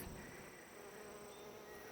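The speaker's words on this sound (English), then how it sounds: "This thing is just a magnet for bees." Bees buzz steadily and faintly around flowering shining sumac, a soft continuous drone of several insects close by, with no voices.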